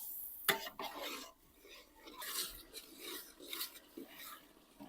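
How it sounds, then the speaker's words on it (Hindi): A spoon scrapes and stirs peas and potatoes with spices in a pan, rough rasping strokes in irregular bursts, close and fairly quiet, with one sharp clank near the start. "मटर और आलू की भुनाई कर लेंगे 3 से 4 मिनट तक मसाला जात के साथ है।"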